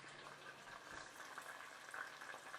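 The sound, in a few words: food bubbling in frying pan while pan frying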